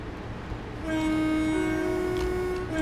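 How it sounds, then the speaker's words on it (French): A BR Class 92 electric locomotive horn sounds in Train Simulator 2018, a sustained loud two-tone blare rising over a low running rumble and lasting about two seconds. "le conducteur doit utiliser l'avertisseur"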